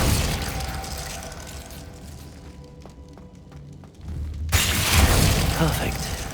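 A Glacius freezing spell cast in Hogwarts Legacy, a loud rushing game-effect burst followed by a thinner stretch with crisp clicks and metallic ticks, then a second broad whooshing surge at the end.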